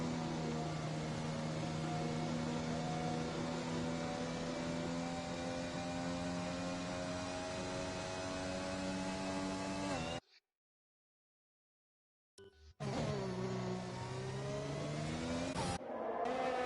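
F1 race cars lap the Hungary circuit in a racing video game, with a loud sustained engine whine that shifts pitch, cuts to silence for about two seconds, then roars back.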